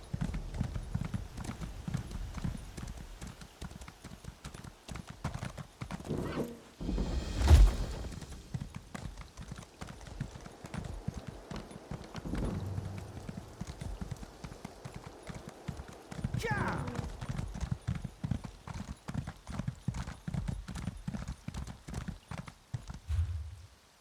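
A horse mount in The Elder Scrolls Online gallops with quick, steady hoofbeats close by, broken by a whinny, while a person talks over it.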